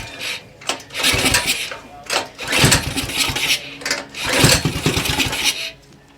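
Axis M200 mini bike engine being cranked repeatedly with the throttle open, several loud bursts of rapid chugging separated by short pauses, close by, without catching.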